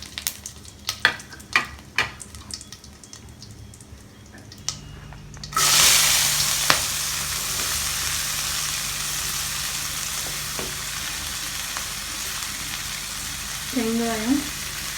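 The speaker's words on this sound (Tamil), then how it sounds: "எண்ணெய் காஞ்சதும் அந்த இடித்து வச்ச சீரகம் போட்டுக்கிறேன்," Crushed cumin and asafoetida sizzle loudly in two spoons of hot oil, a sudden bright burst of frying that settles into a steady hiss, with a few small clatters before and near the end.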